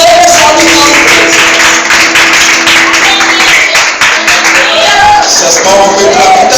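A church congregation claps along during lively worship, the rhythmic hand claps running steadily beneath loud, sustained worship music.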